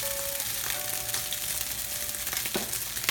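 Fried rice is stir-fried in a pan, a steady sizzle with scraping and clacking of a spatula as the rice is broken up, close and alone.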